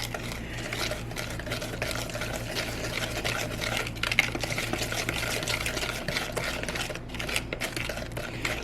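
A spoon steadily stirs a thick donut glaze in a bowl, making a continuous soft clicking and sloshing scrape with a faint mechanical hum underneath and no talking.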